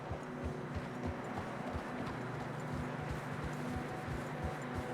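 Horse hooves clip-clopping at a steady walking rhythm in Red Dead Redemption 2, set in snowy terrain, quiet and even under a soft ambient background.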